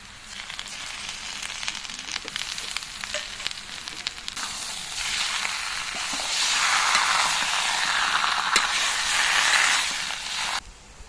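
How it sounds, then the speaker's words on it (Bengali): Elephant foot yam frying in a pan with cumin paste, a steady close sizzle that swells into a louder hissing surge partway through as the paste hits the hot oil, with no talk. "ভালো করে কষিয়ে নিচ্ছে। এবার দিয়ে দিচ্ছি জিরে বাটা,"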